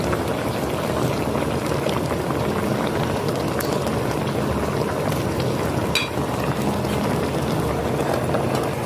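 A pot of paksiw na bangus, milkfish stewed with ampalaya (bitter melon), boils at a steady, dense bubble and hiss that runs loud and unbroken with no talking.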